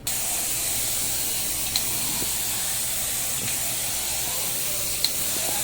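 A spray gun hisses steadily as it sprays activator onto a carbon fiber print, a continuous close spray with a few faint clicks along the way.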